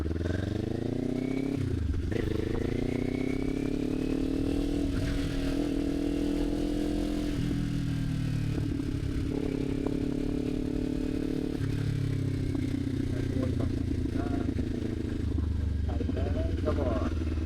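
A motorcycle engine roars steadily while riding, its pitch rising and dropping with each gear change, close and continuous throughout.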